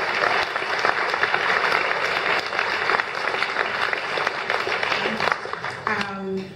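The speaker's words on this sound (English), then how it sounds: "Please a round of applause for them." An audience applauds at a talk event in Vancouver: dense, sustained clapping fills the whole stretch at steady loudness, thinning slightly near the end.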